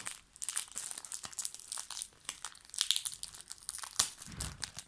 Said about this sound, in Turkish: Şimdi bunun da kartını açalım